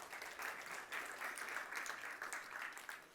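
Conference audience applauding steadily, a dense wash of clapping hands sustained for a few seconds at moderate, even volume with no talk over it.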